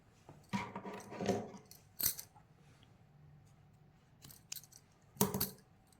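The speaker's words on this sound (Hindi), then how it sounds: "अब इसको क्या करेंगे, हम धागे को काट लेंगे" Scissors snipping crochet thread close by, a few sharp metallic clicks and brief rustling bursts separated by quiet pauses.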